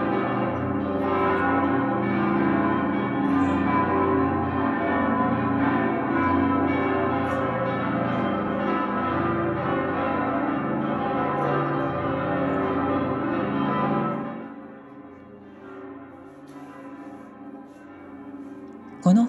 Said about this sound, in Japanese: 教会の鐘が街中に鳴り響いています。